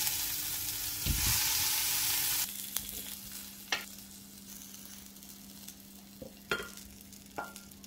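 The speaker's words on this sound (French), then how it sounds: "Maintenant, je vais faire cuire les knackis." Knacki sausages fry in a pan: a dense sizzle at first, then a quieter steady hiss with a constant hum and several sharp clacks of a utensil against the pan, no talking.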